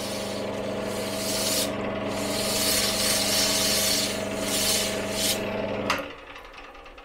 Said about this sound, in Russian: забивающиеся щели все эти мы вычищаем с помощью просто этого куска герметика